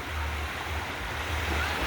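Sea waves at Mae Ramphueng beach, a steady broad wash of surf with low rumbling rolling in continuously, close and fairly loud without voices.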